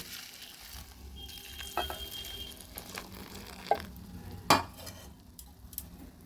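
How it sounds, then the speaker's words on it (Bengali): Boiled milk is added to cornflakes and sugar in a bowl, followed by a spoon stirring with a soft wet swish and several sharp metallic clinks against the rim, close up and fairly quiet, with no voices. "এবার ফুটানো দুধটা দিয়ে দিচ্ছি"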